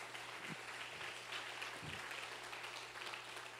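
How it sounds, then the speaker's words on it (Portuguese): Broad, steady clapping of an audience, a continuous wash of applause at moderate distance with a low hum beneath and no voices on top. "Aplaude o teu Deus, aplaude."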